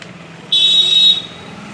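A motorcycle wheel spun to test an oiled speedometer cable gives one brief, high, thin whine lasting under a second, rising sharply out of quiet background and then fading.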